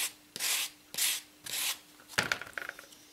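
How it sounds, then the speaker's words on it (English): Corners of a 3D-printed cradle mount for a Galaxy 46mm smart watch are sanded by hand in three close, rough rubbing strokes, followed by small handling clicks and taps, with no talk. "So maybe if I just sand those corners down a smidge"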